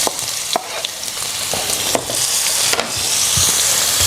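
Chicken drumsticks frying in a pan for jollof rice, a steady sizzle with scattered sharp crackles and occasional stirring clatter, close and fairly loud, with no talking.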